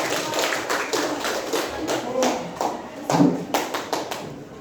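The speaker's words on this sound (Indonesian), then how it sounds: "Tepuk tangan dulu untuk kelompoknya Ika" A classroom of students clapping for a group, a close burst of brisk, uneven handclaps with scattered sharper slaps, continuing for several seconds.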